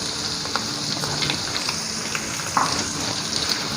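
Sliced onions dropped into hot oil with sautéed garlic and ginger for sultani dal, giving a loud, dense, continuous close sizzle with small crackles and a few stirring scrapes.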